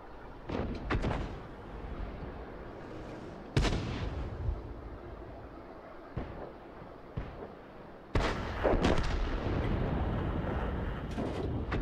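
Artillery shells in the World of Tanks video game land with several loud, sharp booms spread over about twelve seconds, each followed by a rumbling tail over steady engine-like background noise.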